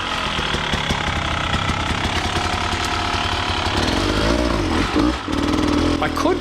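A dirt bike engine revs and labours loudly through a rocky enduro section, a harsh rattling drone that changes pitch as the throttle rises and falls, with a short dip near the end.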